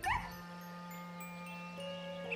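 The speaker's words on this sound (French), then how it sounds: "Snuffy remua joyeusement la queue et aboya un petit peu." A cartoon dog, Snuffy, gives a short, bright yip right at the start, then a steady hum carries on beneath, with no talking.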